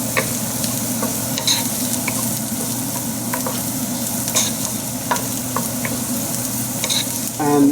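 Rosemary and garlic frying in a pan for cannellini bean soup, a steady close sizzle with intermittent stirring scrapes and clinks, no talking.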